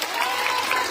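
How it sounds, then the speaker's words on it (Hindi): Audience at a religious gathering in India clapping, a brief burst of dense, loud, continuous applause. "आप सब तालियां बजाइए।"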